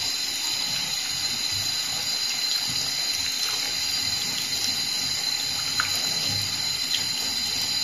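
Shaving brush rinsed under a running tap, a steady close hiss of flowing water with faint splashes and no voices.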